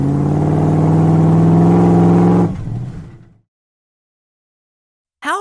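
Monster truck engine rated at 1,500 horsepower, roaring loud and steady for about two and a half seconds, then dropping away into silence, with a brief high squeal at the very end.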